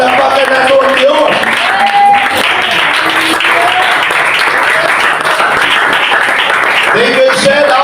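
A church congregation applauds loudly and steadily throughout, with voices rising over the clapping.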